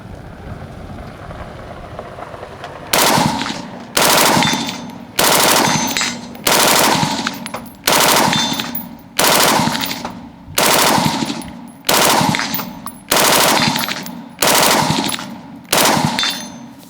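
A Steyr AUG A2 in a light machine gun setup with a pre-ban LMG barrel fires about eleven evenly spaced loud bursts, each a sharp rattling volley followed by a brief pause.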